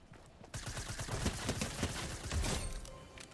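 Combat shotgun blasts in Fortnite gameplay, several sharp broadband shots in quick succession over busy game noise, fairly loud and close.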